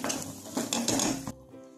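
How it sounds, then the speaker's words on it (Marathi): A spoon clanks and scrapes against a metal pan while spices are mixed into palak paneer with coriander powder and kasuri methi, several quick metallic knocks that stop near the end. "आता हे सर्व मसाले मिक्स करून घेऊ."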